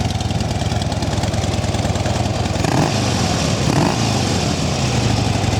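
A Harley Davidson Dyna Super Glide Custom FXDC idling on its factory stock exhaust, a steady, fairly quiet low-pitched rumble with an even rhythmic thump, close by and continuous, with a couple of brief revs near the middle.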